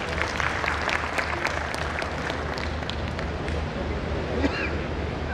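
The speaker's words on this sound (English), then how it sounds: "Loud applause please everyone." An audience at a conference event claps in a steady, moderately loud wash that continues throughout, with a faint voice surfacing briefly near the end.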